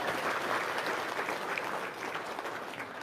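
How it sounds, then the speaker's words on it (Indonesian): An audience claps together in steady, dense applause, a continuous even wash of hand claps that holds throughout without voices. "Cep, tepuk tangan dulu dong."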